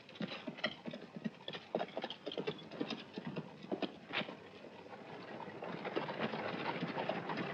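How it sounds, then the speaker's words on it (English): Horses' hooves clip-clop at a brisk, irregular pace in an old Western film scene, faint and mid-distance, fading into a softer rustling background toward the end. "Get those horses of yours moving, Tom."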